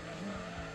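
Race car tires squeal under hard braking in a touring car racing game, a short steady skid tone over engine noise, fairly quiet and alone.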